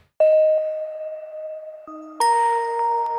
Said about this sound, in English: So it's two different bells from Omnisphere.